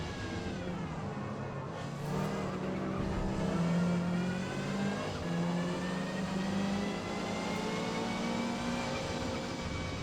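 Race car engine in Forza Motorsport, a Subaru Levorg GT in A class at the Nürburgring, revving steadily and loud throughout with rising and falling pitch sweeps as it accelerates and shifts.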